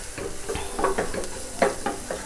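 Onion sautéing in a pan with chili powder for a potato kachrya bhaji, a soft continuous sizzle broken by repeated scraping stirs of a spoon, close and moderately loud with no talking.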